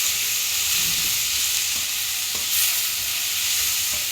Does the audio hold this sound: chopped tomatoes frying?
yes